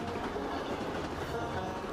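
A train in a point-and-click video game rolls steadily along the rail line, a continuous rumbling clatter of wheels heard from inside a carriage at moderate volume, with no talk.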